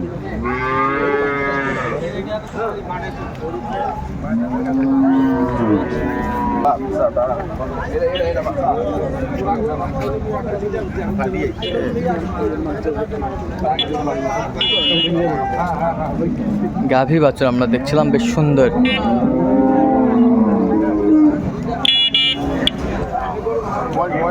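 Dairy cows and calves low repeatedly at a busy cattle market in Ambari, Dinajpur, their long moos rising and falling close by over a steady crowd murmur, with people talking and an occasional vehicle horn.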